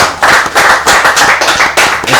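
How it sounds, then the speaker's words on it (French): An audience claps at an award ceremony honoring a journalist in the DR Congo, loud and close with sharp, rhythmic bursts of clapping in quick repeated waves. "avec vos applaudissements"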